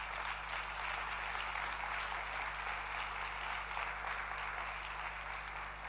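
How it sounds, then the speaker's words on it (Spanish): A congregation applauds during a Spanish-language church worship service, producing a dense, unbroken roar of clapping that holds at a steady level over a low background hum. "Dale un aplauso al Señor."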